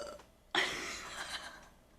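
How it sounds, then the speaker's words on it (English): A single loud, close burp from a man, starting abruptly and trailing off over about a second and a half, alone with no talk. "I have to burp."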